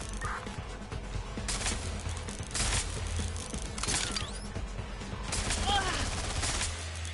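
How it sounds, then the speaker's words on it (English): Bursts of gunfire in Watch Dogs Legion crack out repeatedly over a constant noisy game background, with short volleys spaced a second or two apart and faint voices now and then. "Suspect has opened fire!"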